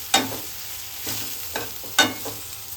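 A spoon scrapes through chicken liver fry in a hot pan, giving several slow, evenly spaced stirring strokes over a steady background sizzle, with no talking.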